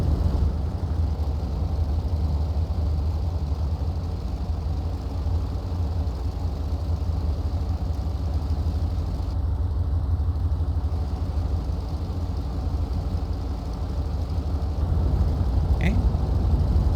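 A FG-1D Corsair piston engine runs steadily in a flight simulator during a magneto check at about 1,200–1,400 RPM, a constant low drone throughout with a brief faint click near the end.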